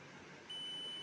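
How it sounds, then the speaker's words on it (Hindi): A multimeter on continuity test beeps as its probes touch a working bulb: a steady, clear electronic tone starts midway and holds to the end, with no talk. "तो देख सकते होंगे आप लोग कि एक तो बीप का साउंड आ रहा है, मतलब ये जो है हम लोगों का यहाँ पर ये बल्ब सही है।"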